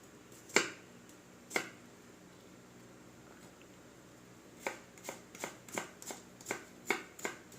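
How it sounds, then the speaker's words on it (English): A kitchen knife cuts garlic into fine julienne on a cutting board with sharp, close taps. Two isolated chops come first, then a quicker run of even cuts after a pause. Quiet, with no talk. "Let's cut garlic in a similar way."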